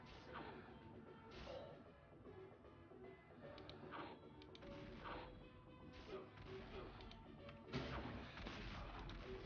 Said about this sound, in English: Let's get this cannon going.